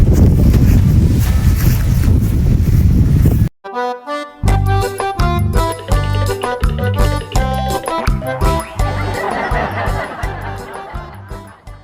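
Loud, steady wind roar buffets the microphone during kite flying for a few seconds, then cuts to music with a strong beat and layered instruments.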